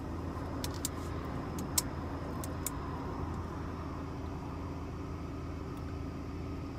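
A quiet car interior with a low steady engine hum and road rumble, with a few light rattles and ticks like jingling keys scattered over the drone, and no talking.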